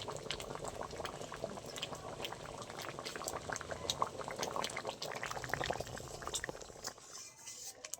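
A thick lentil dal with taro simmers in a pot, giving a quiet, continuous bubbling with soft pops and gurgles, close and steady, fading near the end.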